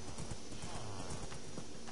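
A horse's hooves clip-clop in a steady rhythm in a survival video game, quiet and even, with a faint whinny in the background.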